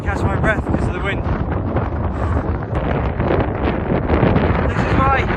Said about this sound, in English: Can't catch my breath because of the wind.